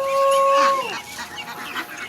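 Chickens, geese and ducks kept as backyard poultry at afternoon feeding time, with a loud close squawk and clucking up front that fades into scattered calls and farmyard bustle.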